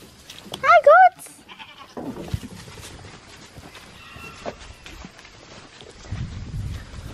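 Goats bleat in a barn, a couple of sharp wavering calls near the start, followed by quieter shuffling and a person speaking softly.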